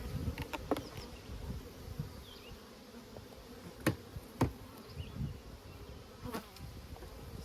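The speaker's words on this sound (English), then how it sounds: "there's not a lot of bees in here" Honey bees buzzing inside a hive during maintenance, a soft, close hum with occasional bees flying past the listener and faint knocks of handling the hive box.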